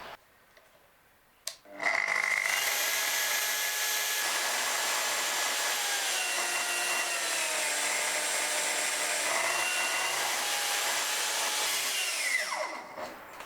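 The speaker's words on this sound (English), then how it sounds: "The saw comes with a built-in soft start feature for smooth startups, and the speed can be controlled with the knob at the back here." A Festool TS55 circular saw motor ramps up gently on its soft start to a steady, high, loud whine, holds there for about ten seconds, then winds down as the electronic brake slows it. There are a couple of clicks beforehand.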